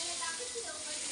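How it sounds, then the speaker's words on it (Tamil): Eggs boiling in a pot on a home stove while egg kulambu is cooked, a steady close bubbling hiss with a voice speaking over it. "முட்டை நல்லா கொதிக்குது."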